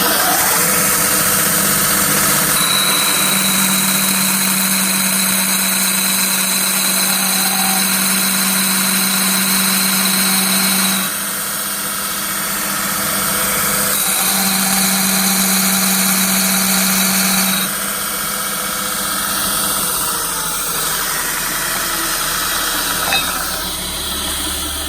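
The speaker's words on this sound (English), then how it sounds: "So it's got an abrasive belt around a wheel, which is the same size as the tube we want to notch." A tube notcher drives an abrasive belt around a wheel the size of the tube being notched, giving a loud, steady mechanical drone with a high whine. The whine cuts out and returns in stretches as the grinding load changes.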